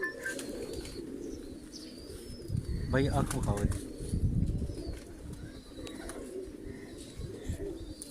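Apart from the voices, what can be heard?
ghora pigeon cooing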